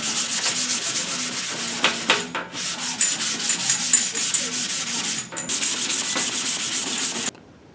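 Hand sanding on a primed car body panel, a loud, continuous rasping scrub in steady back-and-forth strokes with brief pauses, close up and alone before it stops abruptly.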